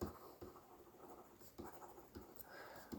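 A pen writes an accounting note on paper, with very quiet, close scratching strokes and small taps at irregular intervals, alone.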